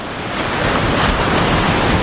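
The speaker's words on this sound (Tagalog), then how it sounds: "Grabe yung alon." Ocean surf at Baler crashes and washes ashore in a broad continuous roar, mixed with wind buffeting the microphone, no voices.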